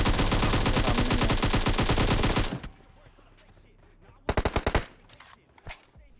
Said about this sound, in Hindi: दूर से भी कोई गोलियां चला रहा है